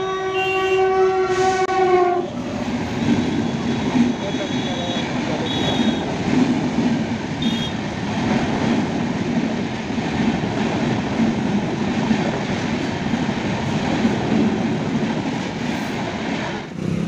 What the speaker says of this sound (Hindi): ट्रेन आ चुका है, हॉर्न अपना लगा दिया है